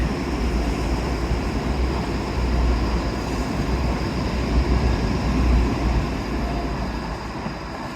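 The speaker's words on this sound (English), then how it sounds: "Here's a train, lovely." A train rumbles past up close, a steady loud roar with rolling low rumble that swells and holds for the full eight seconds.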